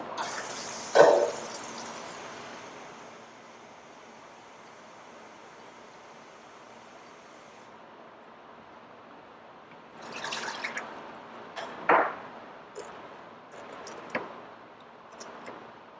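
Water poured and dripping into yarn dye on a work table, a short splash near the start, then a few faint drips and small liquid sounds later, otherwise quiet.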